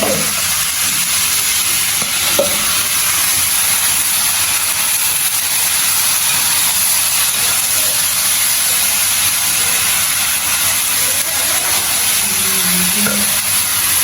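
Tomatoes fry with salt in a pan, giving a loud, continuous close sizzle and hiss that holds steady throughout, with occasional faint stirring or scraping sounds and no talking.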